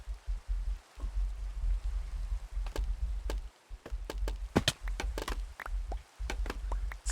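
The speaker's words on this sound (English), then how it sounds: "it's been a long time since it's rained in the game on me" Rain falls in a video game with a low steady patter, broken by scattered sharp taps and knocks of varying loudness, close and without talking.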